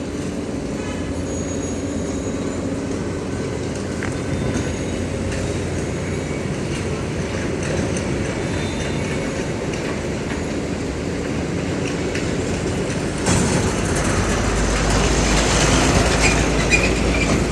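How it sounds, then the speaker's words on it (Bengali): A freight train carrying shipping containers at Chittagong port rolls past with a steady rumbling clatter of wagons and wheels, growing louder and harsher toward the end with faint metallic squeal. "এগুলো ট্রেন দিয়ে এই জিনিসগুলোকে ট্রান্সপোর্ট করে এই জায়গায় আনছে"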